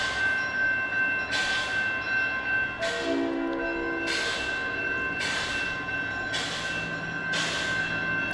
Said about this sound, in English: They'll probably sound the train horn here a little bit.